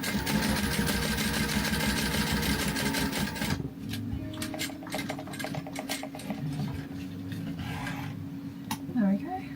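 Sewing machine top stitching a card slot on a bifold purse, running loud and steady with a fast mechanical whir for several seconds, then stopping and giving way to short clicks and handling sounds close by.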